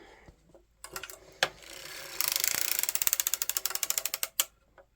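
A circular sock knitting machine is cranked while a heel spring is fitted, giving a close run of rapid mechanical ratcheting clicks that speed into a steady rhythmic clatter and then slow and stop, with a few separate knocks beforehand.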